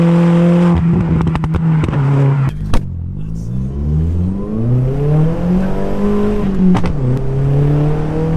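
A Skoda Octavia vRS with a stage 2 tune accelerates hard, its engine note rising and then dropping at gear changes, with sharp crackles and pops from the exhaust. The sound is loud and close from inside the car.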